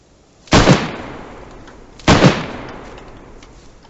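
Two loud, sharp gunshots ring out about one and a half seconds apart in the DayZ video game, each with a short decaying tail and no talk.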